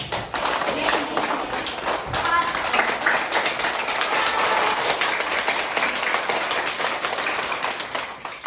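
A primary school class of children claps their hands at the end of a lesson, a dense run of quick, overlapping claps with a teacher's voice and children's voices mixed in.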